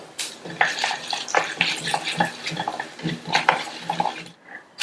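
Urad dal added to hot oil with popping mustard seeds in a pan crackles and sizzles close up, with irregular spatters and clinks of a spoon against the pan.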